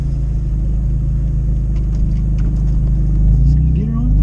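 BMW M3 E46 convertible with a newly replaced clutch, master cylinder and slave cylinder, idling in a driveway: a steady, loud low engine rumble throughout, with a slight rise near the end and faint voice-like sounds over it.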